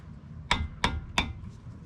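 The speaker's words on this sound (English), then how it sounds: "I'm going to be loosening up the bolt that attaches the brake hose to the caliper" Three sharp metallic knocks come in a quick, even rhythm, close by, as a wrench works loose the brake hose bolt on the caliper of a 1994 Toyota Camry.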